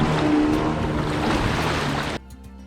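Water in a sea fishing pond is churned vigorously, making a steady, loud, close splashing wash that cuts off abruptly near the end, leaving faint background sound.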